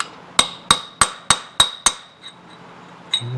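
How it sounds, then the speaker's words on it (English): A hammer strikes a chisel on the clutch side cover of a Yamaha CT-3 motorcycle, with six sharp, ringing metallic blows at an even pace and one more hit after a short pause, all close and loud. "So we're just going to go down in here with our chisel."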